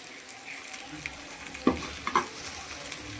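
Sardine fish masala fries in a pan with a soft, continuous sizzle, broken by a few sharper scrapes and clinks as it is stirred.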